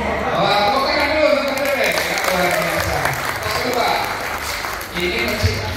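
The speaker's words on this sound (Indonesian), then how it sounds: "Oh, tepuk tangan dulu," An audience claps in a steady, fairly loud burst at a casual Indonesian gathering, with some voices mixed in under the clapping.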